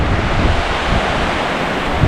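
Sea waves wash steadily onto the shore at Alykes, a broad continuous roar of surf mixed with gusty wind buffeting the microphone, with no voices.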